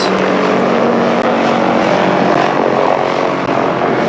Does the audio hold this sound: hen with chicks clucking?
no